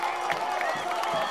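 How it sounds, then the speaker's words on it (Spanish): Brief burst of crowd applause and cheering at a campaign rally for Karen Quiroga in Iztapalapa, a dense wash of clapping held at a steady level. "Un aplauso para todas y todos los que construyeron esta"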